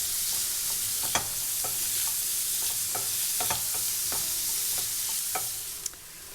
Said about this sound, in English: I'm just going to saute these aromatics for a while.